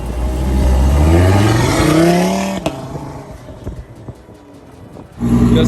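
A five-cylinder car engine on a dyno revs hard and loud, rising in pitch and holding, then drops back to a lumpy idle before surging again near the end.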